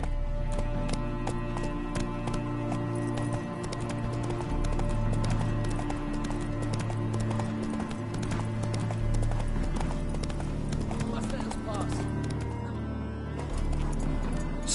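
The horse Roach galloping in The Witcher 3, a fast steady rhythm of hoofbeats over a low droning game soundscape, close and continuous throughout.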